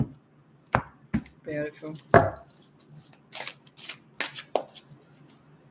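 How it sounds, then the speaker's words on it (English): A Star Cards Tarot deck being cut and shuffled: several sharp riffling bursts and soft card slaps close by, with a brief spoken word mixed in. "let's cut the cards."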